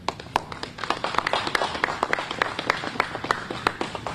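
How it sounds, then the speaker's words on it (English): A modest round of applause at a press conference, a small group clapping with distinct, fairly regular sharp hand claps standing out over a light background of murmuring voices. "Let's give him a round of applause."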